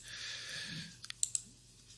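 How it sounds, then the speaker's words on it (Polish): A computer mouse clicks on sliders while editing photos in Lightroom, a handful of sharp, close, isolated clicks in the second half after a soft hiss. "W Lightroomie zadowalam się myszką, klikanie w suwaki."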